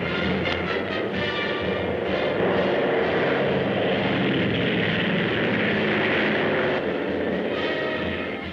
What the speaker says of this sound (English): Fighting planes for the RAF with newly commissioned American flight officers at the controls